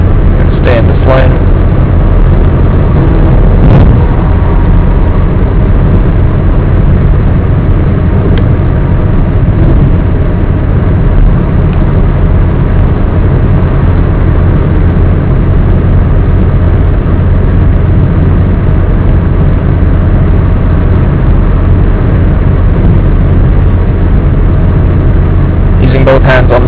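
A manual transmission car cruises on a highway at about 85 km/h, heard as a loud, steady interior road and engine rumble throughout, with a voice talking over it.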